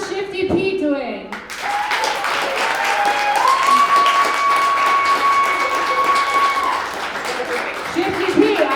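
Applause from the crowd at an Easter comedy game show held in a brewery, a steady wash of clapping and some whoops lasting several seconds, with a person talking briefly at the start and end.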